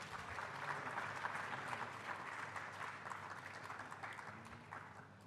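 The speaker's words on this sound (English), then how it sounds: "please have a big round of applause" Audience applause at a freshers induction programme at IIT Kharagpur as a student leader is welcomed to the dais, sustained even clapping from a large crowd, moderately distant and gradually thinning toward the end.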